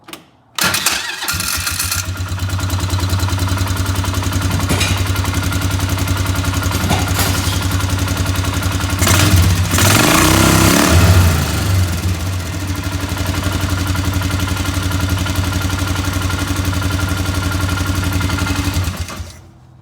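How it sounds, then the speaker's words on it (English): A Polaris Ranger utility vehicle engine starts and then runs steadily with a constant mechanical drone and rattle, close and loud, the sound wavering briefly midway before settling. "It was hard to tell with the engine running"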